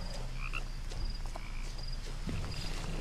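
Frogs croak repeatedly in a pond scene in the video game What Remains of Edith Finch, with short rhythmic calls over a steady low outdoor ambience at moderate level.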